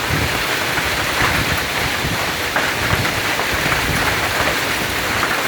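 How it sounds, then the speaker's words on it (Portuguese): Heavy rain with hail during a storm in Brasília, a dense, loud, unbroken hiss of falling water and pellets hitting surfaces, steady throughout with occasional sharper knocks. "Brasília se acabando em chuva, em tempestade."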